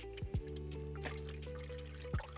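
Water pours and trickles into an Evapolar evaporative air cooler through a small spout, faint and close, with a few drips over quiet background music.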